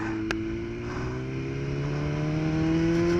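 A BMW carbon S1000RR motorcycle on track, its engine droning steadily with a gradually rising pitch as it accelerates, close and loud, with a brief sharp click near the start.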